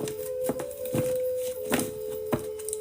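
Tarot cards being shuffled make a handful of soft, separate thumps and riffles roughly every half second, clear and close, over a steady faint hum, with no talking.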